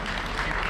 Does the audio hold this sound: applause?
yes